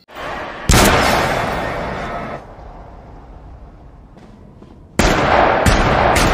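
Two loud, sharp bursts of film gunfire ring out, separated by a quieter stretch with faint rumbling and a few small clicks.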